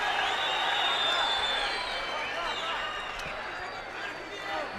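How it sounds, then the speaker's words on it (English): An MMA fight crowd roars and cheers in a large arena, a dense continuous wash of voices and clapping, loud and sustained with swelling shouts. "And the crowd respond to that"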